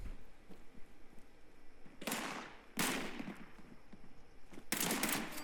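Gunfire in the Fallout 76 video game: three loud, sharp shots or short bursts at about two, three and near five seconds, over a low, steady game ambience with faint clicks between.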